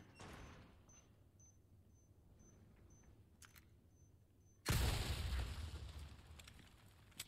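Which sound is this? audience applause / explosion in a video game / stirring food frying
explosion in a video game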